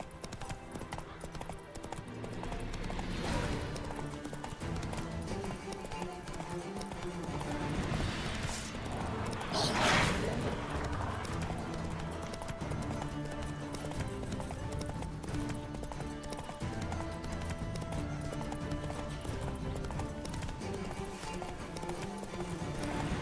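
Roach, a horse in The Witcher 3, gallops with continuous rhythmic hoofbeats under game music and ambience, with a brief louder burst partway through, steady from start to end.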